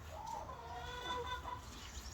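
Chickens clucking inside a chicken coop, a steady murmur of soft, overlapping clucks from several birds nearby with no one talking.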